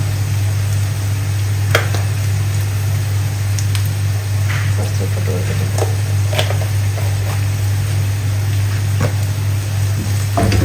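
Sliced onions sautéing with salt in a pan, a steady close sizzle with occasional scraping stirs and clicks over a constant low hum from the kitchen.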